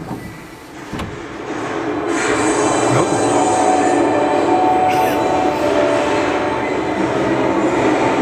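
A small underground mail railway train beneath London, running east from Mount Pleasant sorting office toward Whitechapel, rumbles and rattles steadily along its tracks, loud and enclosed, with wheel squeals and clanks echoing in the tunnel.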